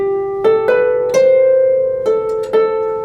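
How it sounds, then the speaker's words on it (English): A lever harp plays the Greensleeves melody solo, a handful of plucked notes ringing out in a slow, steady phrase and sustaining clearly between strikes. "The way a lot of people will play green sleeves sounds like this."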